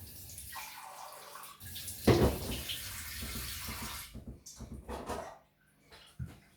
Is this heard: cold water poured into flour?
yes